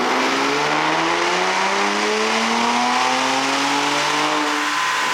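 A Ram RHO pickup's engine on a dyno, running JB4 map 2 on 93 octane, sweeps steadily upward in pitch at constant high volume through a long wide-open pull.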